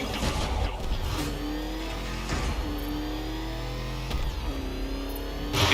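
Batmobile engine in the video game Batman Arkham Knight revving loudly and steadily with rising and falling pitch sweeps and a surge at the end, alone without talk.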